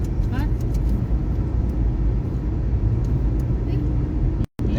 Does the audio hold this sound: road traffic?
yes